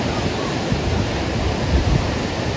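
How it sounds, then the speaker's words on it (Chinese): Ocean waves at the Santa Monica Pier beach, a dense, steady roar of surf with some wind rumble, loud and continuous with no voices. "海浪"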